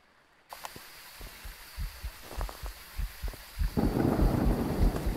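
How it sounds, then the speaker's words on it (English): Rain and thunder in the ghost-hunting game Phasmophobia, heard through a parabolic microphone as soft irregular low thumps that give way to a dense hiss of rainfall, quiet and distant, with no voices. "drown out the sound of the rain"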